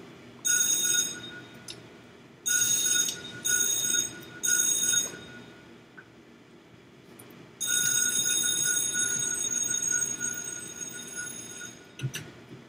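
A Minecraft fire alarm bell rings in harsh metallic bursts, several short rings early on with gaps between, then one long sustained ringing stretch that tapers off near the end.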